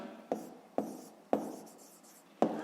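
A pen or pencil writes numbers by hand on paper during a fifth-grade maths exercise, giving four distinct scratchy strokes at uneven intervals, close and clear with no talk.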